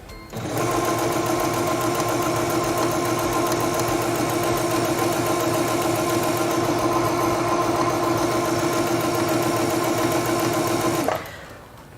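A quilting sewing machine runs a straight stitch through fabric, its needle hammering in a fast, even mechanical rattle that starts abruptly, holds steady and loud for about ten seconds, then stops.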